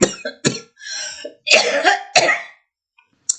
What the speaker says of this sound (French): Je tousse parce que très enflammé